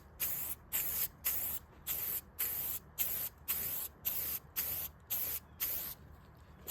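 A rattle can sprays light dust coats of paint over primer, about a dozen short evenly spaced hissing bursts in a steady rhythm, close and fairly loud with no talk.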